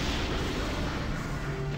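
Grenade blasts in the mecha shooter game Gundam Conquest, a dense rumbling barrage of booms and crashes rolling together with no clear gaps, loud and close, and no talking over it.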